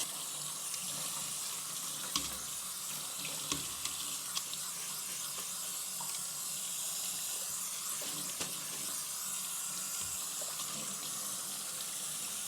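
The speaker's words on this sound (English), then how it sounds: "I'm rinsing it more to just completely cool the noodles" Cold tap water runs steadily into a sink as cooked noodles for vegan pho are rinsed, a constant close splashing rush with occasional soft knocks.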